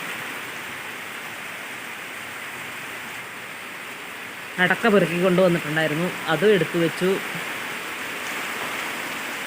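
Steady rain falls throughout, a continuous even wash of noise, with a person speaking briefly over it in the middle.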